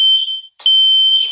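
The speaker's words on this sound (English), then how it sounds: "So, There's smoke in the master bedroom." A Nest smoke alarm sounds piercing, high electronic beeps, two long tones separated by a short gap, loud and close with nothing else behind them.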